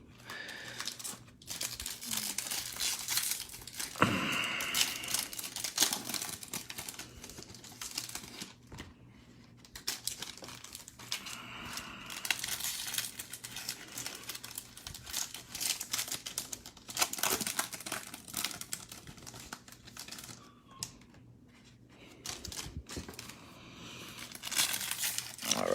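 Bowman 2020 baseball card blaster packs being torn open make close, crackly foil crinkling and ripping, in bursts of rustling and tearing with short pauses between them.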